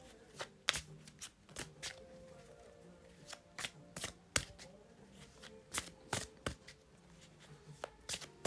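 Tarot cards shuffled and cut by hand, quiet and close, irregular bursts of sharp papery flicks and taps separated by brief pauses, no voice.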